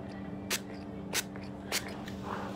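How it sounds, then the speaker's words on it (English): Makeup setting spray sprayed in three quick, evenly spaced hissing bursts, close and clear over a low steady background hum. "So use your favorite setting spray."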